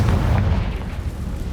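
A Confringo spell explosion in the video game Hogwarts Legacy: a dense, loud, booming blast with heavy low rumble that fills the whole moment and slowly eases off.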